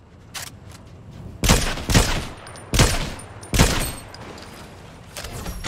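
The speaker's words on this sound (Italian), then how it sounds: "Da me ragazzi mi sparano." Bursts of video game gunfire, several loud close volleys separated by short gaps, with a few fainter shots in between and nobody talking.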